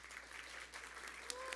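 An audience at a conference session applauds, a steady wash of clapping hands that fills the whole moment at moderate distance.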